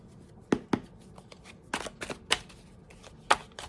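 Several sharp riffling bursts of shuffled playing cards, close and crisp, spaced irregularly with quiet pauses between.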